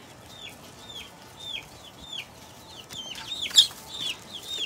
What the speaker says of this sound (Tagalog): Yung aking mga sisiw dito,